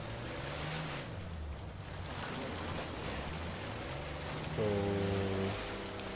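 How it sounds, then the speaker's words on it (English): A waterfall in the video game Uncharted 4 pours as a soft, continuous rushing wash of water, fairly quiet, with a low tonal game sound swelling underneath and a brighter tonal chime near the end. "The waterfall"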